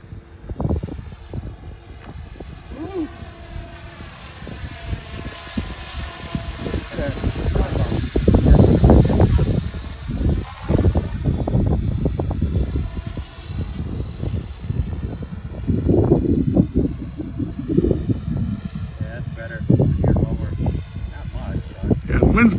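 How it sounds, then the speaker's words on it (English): A Blade Fusion 360 RC helicopter flies in gusty wind, its rotor whine rising and falling under nearly constant talk between people and wind buffeting. "Oh, your heli."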